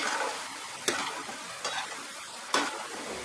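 Boondi, drops of gram flour batter, fry in hot oil with a steady close bubbling sizzle, broken by three sharp clinks of a utensil.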